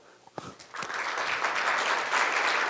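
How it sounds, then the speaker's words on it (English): A crowd bursts into applause after a couple of isolated claps, the clapping swelling and holding steady and loud. "let's welcome most speakers with a warm round of applause"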